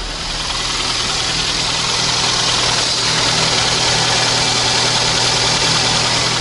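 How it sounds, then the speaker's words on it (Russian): A used car's engine idles steadily up close, a constant low hum with a faint mechanical knock running evenly for several seconds without any talking. "Ну, моторчик работает тихо."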